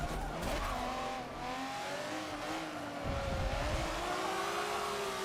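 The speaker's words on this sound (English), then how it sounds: "this McLaren has a bigger launch" A McLaren race car launches in the racing video game Forza 7, its engine roaring continuously with revs climbing steadily and some tire squeal, loud and close throughout with no talking.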